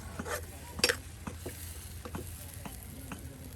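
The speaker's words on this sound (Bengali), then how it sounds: "এটা এখন কষানো এখন আলুটা দিয়ে আরো কিন্তু আলুকে কষানো হবে সেই মশলার সাথে" Dried shrimp, potatoes and spices being stirred and sautéed in a pot, with soft sizzling under a steady run of scraping spoon strokes and a few sharp metallic clinks near the start, close and moderately loud.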